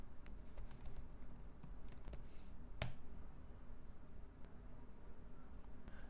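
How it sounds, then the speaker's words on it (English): Fingers typing a command on a computer keyboard, a quick run of close, light key clicks with one sharper tap, faint and without talk. "All we need to do is type in multipass launch."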